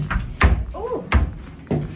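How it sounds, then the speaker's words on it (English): In a hotel room, a door swings open and thuds against its door stopper, two or three short hollow knocks spaced about half a second apart, close and fairly loud, with a faint voice-like murmur between them. "The door stopper stops the door from opening"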